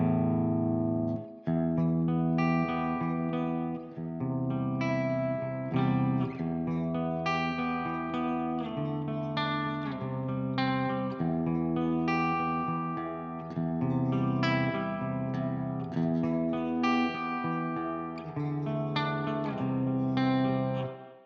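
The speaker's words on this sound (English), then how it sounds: "you got a built-in reverb tank" Electric guitar played through the built-in reverb of a Blackstar AMPED 3 amp, sustained chords and notes ringing continuously with a spacious, atmospheric reverb tail, loud and close with no talking.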